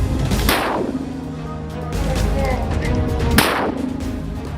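Two sharp, heavy booms from 60 mm mortar fire about three seconds apart, each with a broad blast and fading rumble, over a constant low background din.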